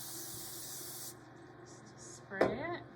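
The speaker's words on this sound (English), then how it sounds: "I take a pan here, spray it with some" A steady aerosol hiss sprays cooking spray onto a pan for about a second, followed by a brief voice speaking nearby.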